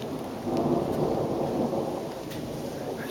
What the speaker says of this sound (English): It's stormy out here now,